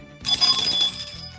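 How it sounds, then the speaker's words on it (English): An enthusiastic bell rings rapidly in a quick, bright, close burst lasting about a second, standing out against a quiet background. "Vice Principal Botnick with a very enthusiastic bell ringing there"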